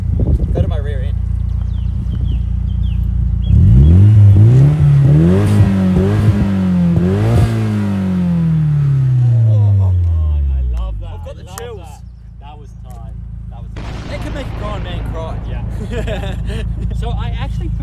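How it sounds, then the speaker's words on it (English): A stock 1999 Nissan Silvia S15 Spec R engine revs up sharply, climbs and holds, then falls back to a rough idle, loud and close, with someone talking over the idle before and after. "Let's see what it sounds like."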